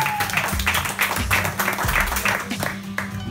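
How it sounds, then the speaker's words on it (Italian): Applause from the audience at a beatmaking contest as a contestant is announced, clapping sounding over a steady low musical beat with rhythmic pulses. "Un applauso, ragazzi."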